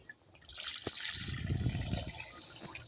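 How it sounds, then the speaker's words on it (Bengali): Water poured from a vessel into a pot of braised chicken with potatoes, a steady splashing, gurgling pour building after a brief clink, close and alone. "আমি এখানে জল দিয়ে দিচ্ছি"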